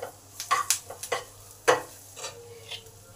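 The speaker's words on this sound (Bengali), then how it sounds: "এটাকে জাস্ট 1 মিনিট ভেজে নেব।" Spices and curry leaves frying in oil in a pan for an aloo kulcha filling: soft sizzling under a run of close stirring scrapes and clicks of a utensil against the pan, with no voices.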